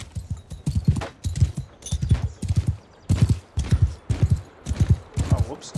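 Horse hooves clip-clop in the video game Bannerlord, a steady, rhythmic run of close, distinct hoofbeats repeating in quick clusters with short pauses between them.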